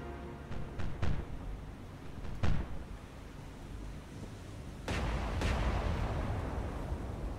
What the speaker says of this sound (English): Massachusetts is only using her 4 batteries, but I fire 16-inch guns